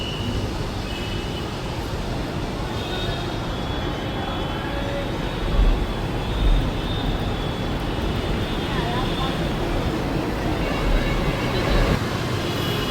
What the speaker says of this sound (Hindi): और देख सकते हैं अपना मेट्रो आ रही से, ये जीरोमाइल से, ये भूतनाथ साइड से आ रही से।